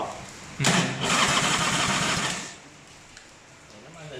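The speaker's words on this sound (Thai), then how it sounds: "น้ำมันสตาร์ทได้ยินเสียงไหม" An S&S Evo 80 cubic inch motorcycle engine cranks over and catches with a loud, sudden burst, runs rough and strong for about two seconds, then drops to a quieter idle.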